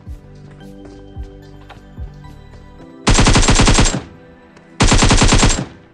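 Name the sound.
gunfire in a shooting video game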